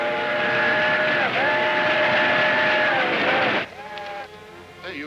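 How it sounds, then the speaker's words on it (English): A steam locomotive whistle blows a long sustained multi-tone blast, briefly dips, then holds again loudly before cutting off and returning in short fainter toots, with rail noise underneath. "I think I hear that train whistle."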